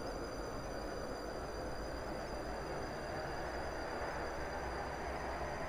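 A Class 458 electric train runs between Benton and Leighton West, giving a constant close rumble with a steady high electrical whine above it, unbroken for several seconds and with no talk.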